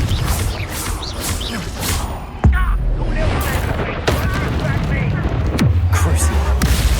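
Confringo fire-blast spell explosions in Hogwarts Legacy: a few heavy booming blasts with whooshing tails and low rumble, set amid busy combat effects and a voice calling out.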